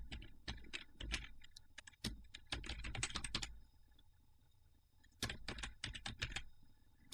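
Computer keyboard typing, close and fairly quiet, with two clusters of quick keystrokes separated by a short pause.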